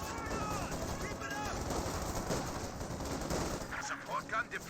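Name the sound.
gunfire from video game Company of Heroes 2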